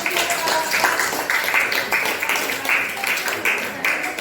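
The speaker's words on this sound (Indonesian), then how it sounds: "Oke ya, tepuk tangan" Students in a classroom clap together after a presentation, a brief, moderately loud burst of applause with a rhythmic, somewhat unified beat throughout.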